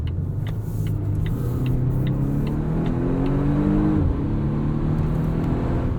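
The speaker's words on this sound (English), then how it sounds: "the supercharger kicks in, and then the turbo kicks in at high revs" A 2020 Volvo V60 T8 E-AWD Polestar hybrid accelerating hard, supercharger then turbo kicking in, engine whine climbing steadily in pitch with a steady rumble beneath, heard from inside the cabin.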